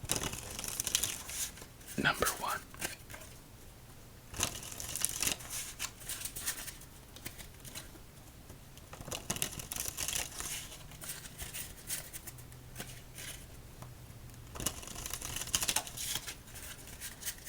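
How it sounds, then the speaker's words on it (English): Playing cards are riffled and bridged several times in crisp, rapid bursts, close up, before a game of solitaire, with a person speaking quietly between shuffles. "we'll see what's in store for us here as we shuffle up"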